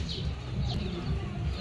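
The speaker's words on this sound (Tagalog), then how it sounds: "gandang ibon." Pigeons of a Central Tarlac strain coo in low, steady, overlapping calls throughout, close and fairly loud, with a few faint higher chirps above and no talking.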